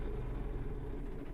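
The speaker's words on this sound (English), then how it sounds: "that sounds like the engine starting" A truck engine in American Truck Simulator, a modded rig, turns over and settles into a steady low diesel rumble that holds evenly throughout, with no talk.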